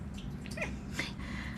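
A pet cat named Mimi, sitting at a window watching birds, gives a couple of soft, brief meows over a low room hum. The calls are faint and fairly close, with no one speaking.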